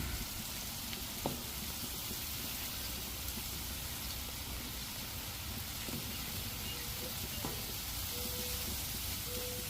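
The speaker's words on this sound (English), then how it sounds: "So I buttered some buns here. I'm gonna get them toasting up a little bit." Buttered burger buns toasting on a Blackstone griddle outdoors, a steady, even sizzle with faint crackles and a few light clicks, close and continuous with no talking.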